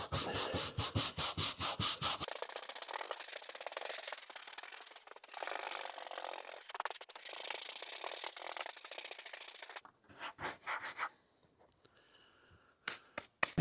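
Brushing deteriorated, crumbling foam off a sagging Ford F-150 headliner produces close, dense scratchy rubbing, with quick repeated strokes at the start and end around a longer continuous scrubbing stretch.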